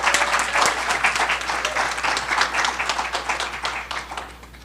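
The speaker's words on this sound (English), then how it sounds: "let's give them a big round of applause" Audience applause at a conference plenary session, a steady crowd of many hands clapping loudly and evenly, then thinning and fading slightly toward the end.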